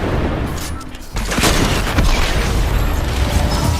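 In the video game Fortnite, a rocket explodes and a sniper fires a quickscope shot, producing a loud dense burst of booming blasts and gunfire that carries on for several seconds without talking.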